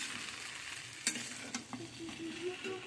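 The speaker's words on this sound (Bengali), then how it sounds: "ওটস সুজি একসাথে রান্না করছে" Oats and semolina cooking together in a pot, with steady stirring scrapes and a low simmering sizzle, a few sharper clinks of the spoon against the pot standing out.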